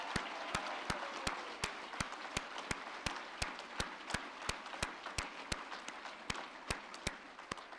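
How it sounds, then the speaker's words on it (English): Applause for prize winners at a virtual graduation ceremony, heard as a single set of sharp, evenly spaced hand claps that stay steady and fairly close throughout. "Let's give them all a round of applause."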